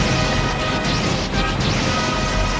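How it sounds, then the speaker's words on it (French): Machine gun fire in a Gamera kaiju film battle, a dense continuous roar of rapid shots and crashing blasts, loud and unbroken throughout. "Ils le combattent à la mitrailleuse."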